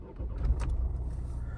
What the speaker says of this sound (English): let's start it up. So, turn the key,